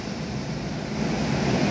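Steady sea surf rolls against the shore at Puerto de La Libertad, a continuous broad wash with wind noise over the microphone and no clear separate wave breaks.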